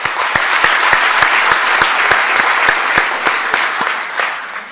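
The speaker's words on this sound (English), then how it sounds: "You should give yourself a big round of applause." A conference audience applauds loudly and steadily, a dense close wash of many hands clapping that holds for several seconds before tapering slightly at the end, with no talk over it.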